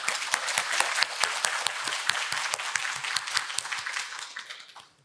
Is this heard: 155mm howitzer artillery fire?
no